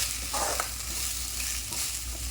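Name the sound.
sautéing and stirring in oil in a pan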